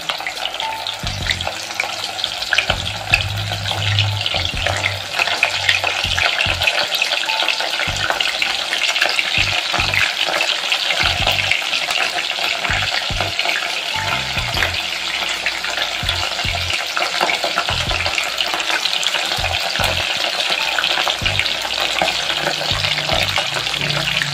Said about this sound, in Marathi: ते पण अशाच पद्धतीने असेच सोनेरी कलर आपण होईपर्यंत तळून घेऊ.